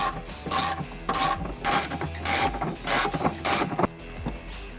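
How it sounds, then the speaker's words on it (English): A ratchet backs out two 10mm bolts holding the bumper fascia to the bumper beam on a 2011-2026 Dodge Durango, giving about eight rhythmic bursts of close, bright clicking separated by short pauses. "Now you need to remove 2 10mm bolts from the fascia connected to the bumper beam."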